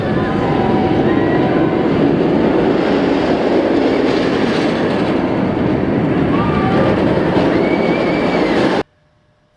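A ride on the Kumba roller coaster produces loud continuous rumbling and clattering of the train along the track with squealing wheels and distant screams, ending abruptly in near silence.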